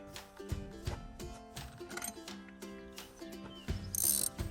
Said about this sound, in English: Got to take and put a wrench on that tensioner.